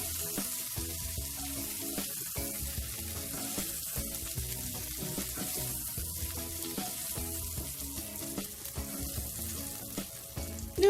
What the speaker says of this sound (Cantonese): 呢個蝦咧，我大約煎咗佢係1分鐘多啲啦